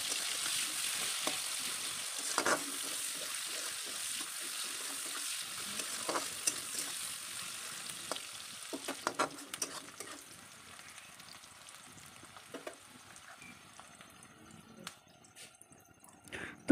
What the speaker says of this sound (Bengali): এবার আমি এর মধ্যে দিয়ে দিচ্ছি একটা মিডিয়াম সাইজের কুচানো পেঁয়াজ।